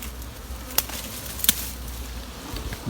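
A swarm of honey bees hums in a low, continuous drone, close by, broken by a few sharp knocks or brushing sounds.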